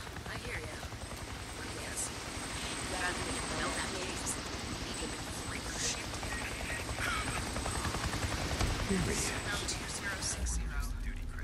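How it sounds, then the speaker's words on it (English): A helicopter drones steadily overhead in Days Gone, its dense rotor roar running the whole time while a person talks over it. "I gotta place a tracker on that chopper"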